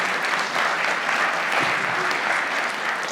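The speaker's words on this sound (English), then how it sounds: "You don't have to clap, just laugh at my jokes" Audience clapping at a speech event, a dense and steady wash of applause that fills the whole stretch at an even level, with no voices rising above it.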